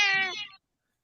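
A cat gives a single loud, close, complaining meow that tapers off after about half a second, with no talk over it.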